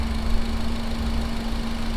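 A Renault Samsung SM3 RE engine idles steadily at close range, a continuous low hum with a constant tonal drone and no other noises over the two seconds.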